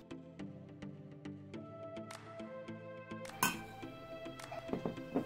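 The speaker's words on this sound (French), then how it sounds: "Je mélange pour qu'elle fond." Gelatin is stirred into hot crème anglaise in a bowl for a chocolate-orange bûche. A spoon taps the bowl in quiet, evenly spaced clinks, then gives way to a busier clatter near the end.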